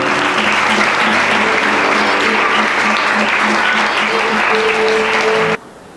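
A church congregation applauds loudly and steadily, dense clapping with faint voices and a few held musical tones underneath, cutting off abruptly near the end.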